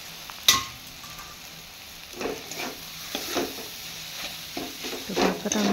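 Boiled pasta being stirred into a pan of cooked-down spices, with a soft sizzle under scraping strokes, a sharp clatter near the start and further bursts of stirring later, close and moderately loud, with no talk.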